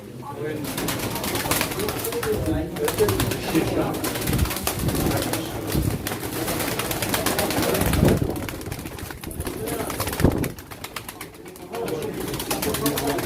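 Pigeons coo softly and continuously close by, with a brief flutter of wings, while people talk over them.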